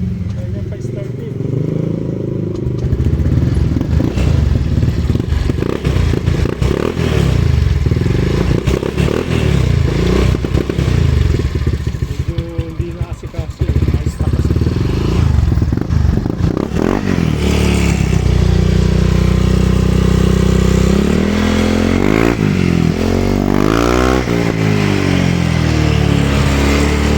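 A high-compression 160cc motorcycle engine is started and then idles and revs near the microphone, a steady mechanical run with rising throttle surges toward the end, while someone talks over it.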